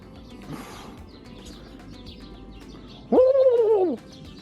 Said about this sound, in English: on a lot of these campsites, there seems to be like a pen that houses birds